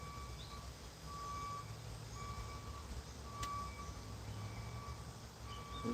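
A reversing truck's backup alarm beeps in a steady, evenly spaced rhythm at a moderate distance, over a constant low rumble of engine and road noise outdoors.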